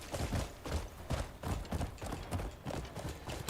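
Horse hooves gallop in the Crimson Desert video game, a steady run of rhythmic thudding hoofbeats that stays close and fairly loud for the whole stretch.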